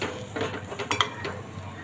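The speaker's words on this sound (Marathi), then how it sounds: "आता आपण झाकण काढून बघूया." A metal lid is lifted off a pan of cooking semolina sheera, giving a few faint clinks and a soft metallic scrape over a quiet simmering background.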